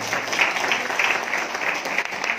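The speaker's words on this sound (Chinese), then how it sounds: "那我们给他们一个热烈的掌声吧。" Audience at a company gathering applauding first-time attendees, a steady wash of many hands clapping close and fairly loud throughout, with no voices over it.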